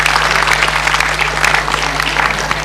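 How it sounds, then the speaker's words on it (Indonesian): Crowd at a family empowerment event claps for the Asyafiyah university group in sustained, fairly loud applause over a low electrical hum, with no speech on top. "kita beri tepuk tangan untuk Asyafiyah"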